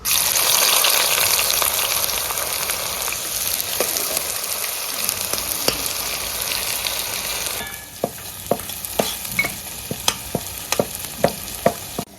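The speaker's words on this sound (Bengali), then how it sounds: "পেঁয়াজের বেরেস্তা ভেজে নেবো" Onions fry in hot oil for duck biryani, a loud, bright sizzle at first that thins out midway, followed by a series of sharp scraping knocks of a spatula against the pan over the softer crackle.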